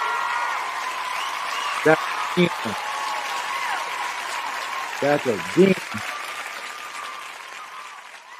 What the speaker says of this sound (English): And y'all better start clapping and making noise and all the good stuff.